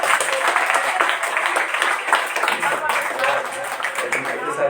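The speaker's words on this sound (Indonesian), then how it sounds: "Ayo kasih tepuk tangan." Steady applause from a school audience at an elementary Islamic school speech contest, a dense continuous patter of many hands clapping at moderate distance, with voices mixed in.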